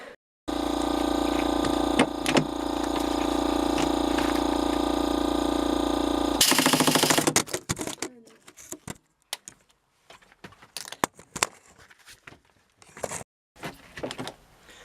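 An impact gun removing a lag screw from a cheap salvage boat engine, with a loud, steady mechanical whir lasting about six seconds, followed by scattered rattles and clanks of loosened parts.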